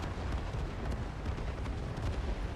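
A tank blowing up in a video game: a dense, continuous low rumbling blast with crackling bursts, loud and sustained throughout.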